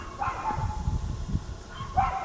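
A neighbor's dogs bark from a moderate distance, a few yips and barks near the start and end over a continuous low rumbling background.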